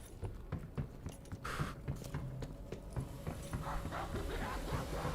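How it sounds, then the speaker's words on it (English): A dog growls and barks in a video game, set over a steady bed of game sound and music that keeps going throughout. "I hear you growling"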